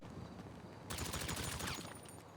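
Gunfire in the video game Piggsy: after a short quiet stretch a rapid burst of automatic shots rattles for about a second, close and sharp, then stops.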